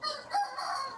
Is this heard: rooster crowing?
yes